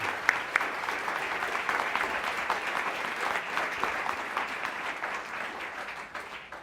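An audience at a book and author program at the Illinois Holocaust Museum applauds to welcome a speaker, with steady, sustained clapping from a room full of people that fades slightly at the end.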